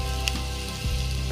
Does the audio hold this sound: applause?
no